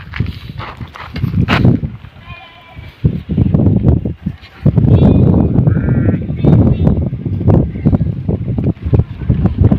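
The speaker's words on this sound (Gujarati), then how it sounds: "તો જોઈ શકો છો આ રીતે ઘેટા બકરા" Sheep and goats graze on a hillside, giving repeated loud, close bleats in short bursts over wind and rustling movement.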